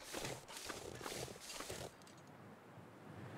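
Rhythmic clip-clop footfalls of a deer or footsteps trotting by in the survival game The Long Dark, a quick series of hoof-like thuds over about two seconds, then quieter ambience; no talking.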